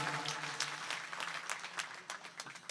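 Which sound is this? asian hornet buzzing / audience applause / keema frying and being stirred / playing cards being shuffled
audience applause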